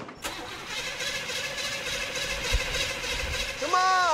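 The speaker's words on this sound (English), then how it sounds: "I'm gonna turn it over again. Let's give it another shot." Car engine being cranked over repeatedly as it tries to start, a continuous grinding churn under a high whine, with a voice breaking in near the end.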